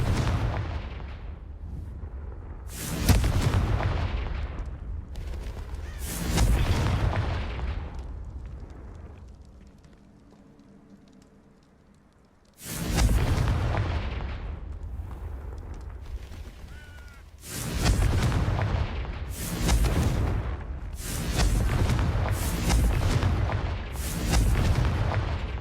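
Confringo blasting spell explosions in the Hogwarts Legacy video game, a series of heavy booming bursts with rumbling tails, a lull in the middle, then several more blasts in quick succession.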